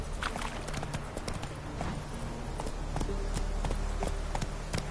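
The horse Roach gallops in The Witcher 3, its hoofbeats clip-clopping in a quick, steady rhythm over ambient game sound with no talk.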